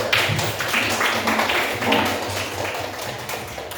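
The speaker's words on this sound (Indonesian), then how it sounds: "Tepuk tangan untuk kelompok 1." Classroom clapping for a group of boy students called up to perform a song, a steady patter of hands from a young audience, fairly close and continuous with faint voices mixed in.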